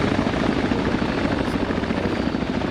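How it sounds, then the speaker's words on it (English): A video game helicopter roars overhead with a loud, steady, throbbing rotor drone that fills the whole stretch without a break. "I can't hear you over the chopper."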